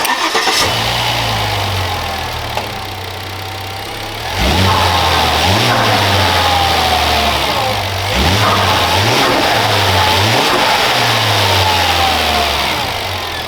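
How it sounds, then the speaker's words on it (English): Turbocharged 2014 Volvo S80 T6 fitted with a Turbosmart ECBV intake kit, starting up and idling, then revved repeatedly in loud close blips that rise and fall over a steady idle. "you guys will see the final result of how the Turbosmart ECBV from Elevate sounds like"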